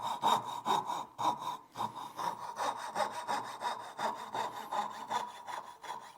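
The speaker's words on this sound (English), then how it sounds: "start sawing and turn it" Hand saw cutting wood for half-blind dovetails, a close, quiet series of rhythmic rasping strokes, roughly two per second, steady and alone without talk.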